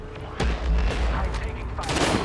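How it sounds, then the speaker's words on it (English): Gunfire in the Apex Legends Arena ranked mode, a burst of rapid shots starting about half a second in and running steadily to the end, loud and close, with a second heavy volley near the end and game voices underneath. "I'm taking fire."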